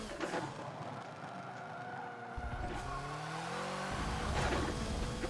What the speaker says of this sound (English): The tires are protesting a little bit.